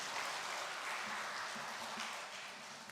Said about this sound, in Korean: 우리 임마누엘 찬양대를 위해서 다시 한번 박수하겠습니다.